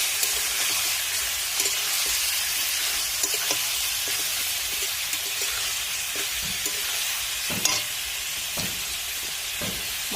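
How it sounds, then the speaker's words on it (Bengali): Meat fries in a pan with turmeric, giving a steady bright sizzle throughout, with occasional scraping knocks from stirring, close and moderately quiet, no talking. "মাংসটা আমি হালকা করে ভেজে নিয়েছি।"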